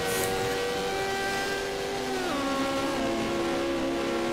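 A Porsche race car, number 47, at a European Hill Climb Championship round at Rampa da Falperra, drones loudly at high revs, its engine pitch holding steady and then dropping at a gearshift before climbing again.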